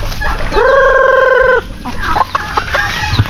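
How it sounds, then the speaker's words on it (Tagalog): A hungry penned farm turkey gives one loud sustained harmonic call, close by, followed by scattered clucking and shuffling fowl sounds. "Yung pabo naman, gutom na. Nagaantay na sila."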